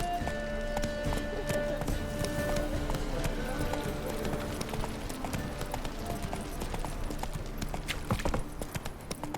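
Roach, the horse in The Witcher 3, gallops with a steady, rhythmic clip-clop of hooves, fairly close and continuous, joined by a short whinny and overlaid in-game sounds.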